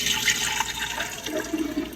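Liquid for kombucha pours steadily into a pitcher, a continuous splashing rush of filling water with a slight rise in tone as the vessel fills, close and alone without talk.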